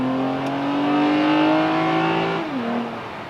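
A Toyota Camry TRD's V6 engine revs hard and steady under load, the pitch climbing before dropping sharply at an upshift and settling lower again, loud and close with no talking.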